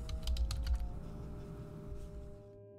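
Rapid clicking of keys on a computer keyboard as someone types into the Windows search box, dense and close at first, then thinning to lighter, quieter taps.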